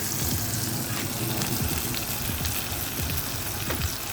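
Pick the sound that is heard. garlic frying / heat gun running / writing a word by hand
garlic frying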